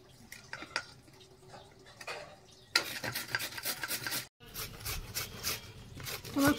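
Carrots rubbed by hand against a grater, giving soft scraping strokes at first, then a louder run of rapid rhythmic rasping that stops briefly and resumes, close by.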